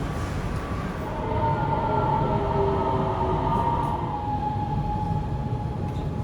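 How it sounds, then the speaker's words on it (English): A metro train pulls into Ximenkou station with a steady, loud rumble and a long whining, squealing tone that holds across the arrival and slowly fades, no voices over it. "here's the train right now"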